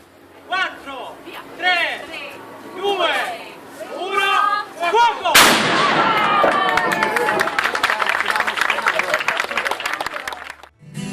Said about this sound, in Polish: słynny strzał z armaty na który przychodzi mnóstwo ludzi